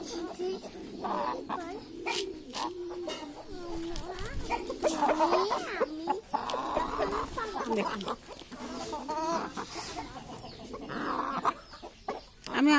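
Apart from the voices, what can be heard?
free-range chickens clucking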